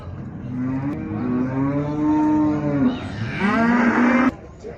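A cow at an open livestock market lets out two long, loud, close moos in quick succession, each a deep drawn-out bellow, with no speech over it.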